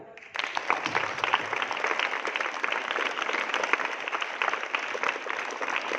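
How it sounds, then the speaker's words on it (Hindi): An audience applauds during a Raksha Bandhan festival speech, with steady, even crowd clapping that starts suddenly and holds at a moderate, slightly distant level for several seconds. "अपने लिए तालियां बजा दो"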